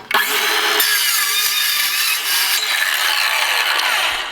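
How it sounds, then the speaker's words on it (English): A battery-operated circular saw fitted with a carbide wood blade cuts through a piece of aluminum with a loud, steady high-pitched whine and grinding scream that holds for several seconds, nearby and alone. "This is a battery operated circular saw"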